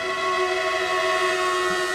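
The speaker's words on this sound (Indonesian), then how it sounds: "Iya, ini dia KRL Tokyo dia datang. Tokyo 8500." A Tokyo 8500 series KRL commuter train pulls into a station platform, its steady motor whine and tonal hum loud and close, with rumbling wheels beneath and no talk.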